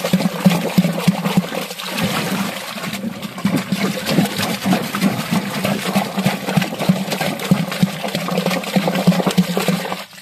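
Water swishes and sloshes steadily as vaccine for young chicks is stirred into it by hand, a close, continuous churning with a low hum beneath.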